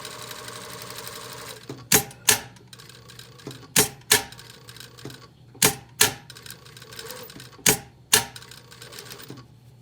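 An industrial sewing machine stitches a breast pocket, running in short bursts with sharp clacking back-tack peaks roughly every second or two over a steady mechanical hum.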